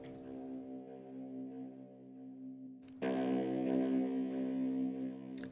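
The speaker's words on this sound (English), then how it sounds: "And you can also hear a distorted guitar here in the background." A heavily distorted electric guitar sits in the background of a spooky Halloween track, droning on sustained root and fifth notes, then jumps louder and brighter around three seconds in, with a thick, buzzing, steady tone throughout.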